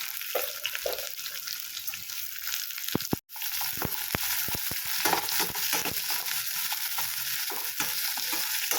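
Chopped onion sautéing in an oil-filled pan for a garlic tamarind curry: a steady, close, dense sizzle that runs throughout, broken by a few sharp clicks of stirring and one brief drop in the sound.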